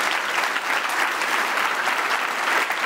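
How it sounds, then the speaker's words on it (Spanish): A church congregation gives sustained applause during a sermon, a steady, even wash of many hands clapping at once throughout. "Dale un aplauso a Jesús con todo tu corazón."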